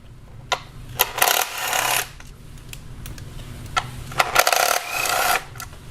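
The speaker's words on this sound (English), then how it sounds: "Just remove the bolt." Ignition coil bolts on a Kia Optima being loosened with a 10mm socket: a few brief ratcheting and scraping bursts of metal tool work, close and fairly loud, separated by quieter gaps.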